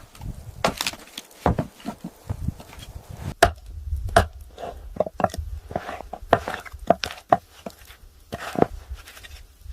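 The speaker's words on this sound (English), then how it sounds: "she returns to her firewood storage to collect more firewood and cut it into smaller pieces" Firewood being chopped into smaller pieces outdoors in extreme Siberian cold, a series of sharp woody knocks and splits at an uneven pace, moderately close, with rustling and handling of wood between strikes.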